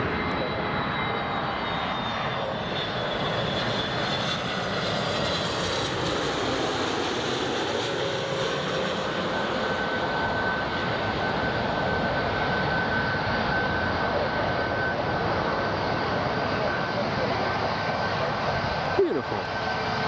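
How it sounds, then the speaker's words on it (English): British Airways airliner arriving at Newcastle International Airport, a steady loud jet engine roar with a slowly shifting whine that fills the whole stretch, with faint talk underneath. "Right, here comes the British Airways."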